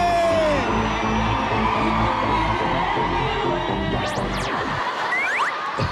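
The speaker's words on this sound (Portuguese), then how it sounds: "Cadê o grito da mulherada aí?" Women in a studio audience screaming and cheering at a male performer's sensual catwalk, a dense sustained roar of whoops and shrieks that drops away near the end.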